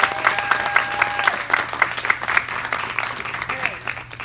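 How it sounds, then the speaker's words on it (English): Audience applause for a speaker at a youth media summit, a steady round of clapping from a crowd with a faint tonal sound running underneath. "If we could please give Anna one more round of applause."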